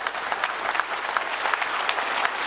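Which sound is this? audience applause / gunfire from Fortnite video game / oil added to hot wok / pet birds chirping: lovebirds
audience applause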